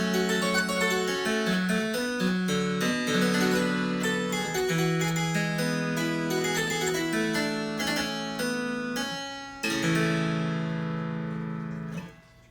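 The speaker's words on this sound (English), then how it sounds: "a set of 8-foot strings, which will sound like this." A Neupert harpsichord plays on its 8-foot string set, a flowing passage of plucked notes, bright and twangy, sustained chords under a moving line, close and steady, ending on a ringing chord.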